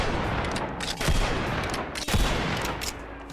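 Rapid gunshots in a western video game aimed at a bison calf, a close fusillade of sharp cracks, with heavier blasts at about one-second intervals over a dense crackling background.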